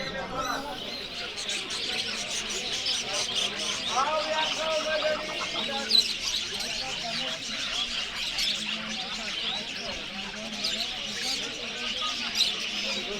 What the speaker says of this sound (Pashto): دوستانو دلته مې یو طوطي پیدا کړو چې غږیږي